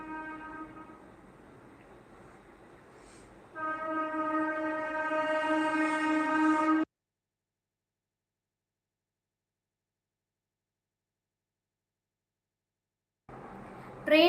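A train horn sounds nearby as a sustained harmonic blare that grows louder partway through, then cuts off abruptly into silence before returning briefly at the end.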